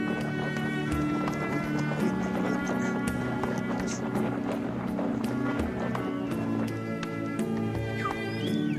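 Hoofbeats of a horse running along a rugged mountain path used as a daily route to school, a steady rapid clatter close by with dense rhythmic impacts throughout.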